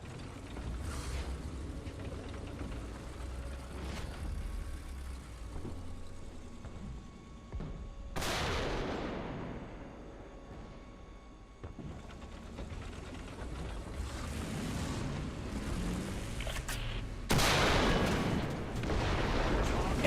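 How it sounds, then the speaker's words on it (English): Tank cannon fire in the War Thunder video game, aimed at a T-54, sounds as a few sharp, heavy booms over a steady low engine rumble and mechanical creaking, spaced several seconds apart, with no speech. "And there's the first guesstimated shot."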